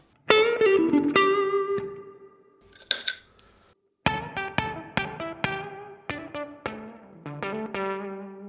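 Electric guitar playing plucked notes and short phrases, first clean and then through a buzzy Octopus octave fuzz pedal, loud and close with a brief pause midway.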